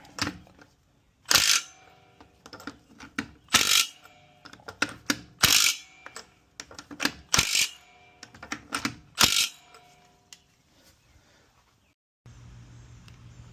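Strut mount bolts on a car being torqued down with hand tools, a series of sharp metallic clicks and ratchet bursts in separate clusters, close and fairly loud, followed by a quieter low hum at the end.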